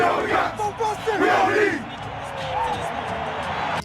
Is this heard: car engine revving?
no